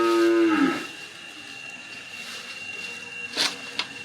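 A newly bought cow lets out one loud, close, drawn-out moo, followed by quiet surroundings broken only by a couple of brief clicks.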